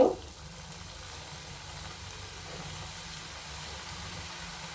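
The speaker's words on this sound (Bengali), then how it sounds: "এখন আমি পিঠাগুলি ছেড়ে দেব মানে মুগের পুলিগুলি ছেড়ে দেব" Mung dal puli pitha dumplings drop into hot oil turned to low flame: a quick splash at the start, then a soft, steady bubbling fry close by.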